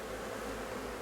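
Honeybees swarm at a hive in a steady, dense buzzing drone, close and continuous throughout a brief moment with no voices.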